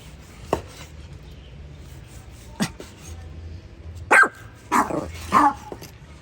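Dogs give a few short, sharp barks, spaced out and moderately close, with a couple of quicker barks near the end and quiet room sound between them.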